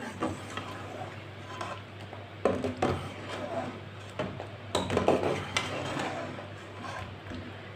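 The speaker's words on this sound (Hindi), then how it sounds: "1-2 मिनट के लिए ना इसी तरह मिक्स कर लेंगे" Apple murabba being mixed in sugar syrup in a pot off the heat, with soft intermittent scraping and knocking of a spoon against the pot, fairly quiet and close, in irregular bursts.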